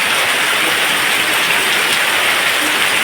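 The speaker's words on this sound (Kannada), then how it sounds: "ಮಳೆ ಅಂತೂ ಜೋರು ಬರ್ತಾ ಉಂಟು ನೋಡಿ" Heavy rain pours down in a steady, dense roar, loud and unbroken throughout with no voices.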